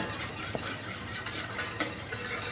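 A roux of flour being stirred as cold white chicken stock is poured in for a chicken fricassée: steady, close scraping and swishing in a pot with faint sizzle and a couple of sharper utensil clicks, no talking.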